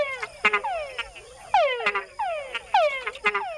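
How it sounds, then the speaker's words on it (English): Male frogs in Panama give repeated mating calls, each a sharp descending whine followed by short chuck notes, three calls in steady succession, loud and close with no voices. "Male frogs make the added chuck sound to attract females."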